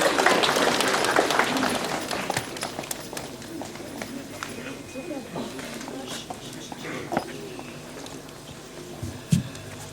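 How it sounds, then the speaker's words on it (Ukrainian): Applause breaks out for a pupil at a school award ceremony during a last-bell celebration. The clapping starts dense and loud, then thins and fades while scattered voices and movement remain. "Ми вітаємо Юлію бурхливими оплесками."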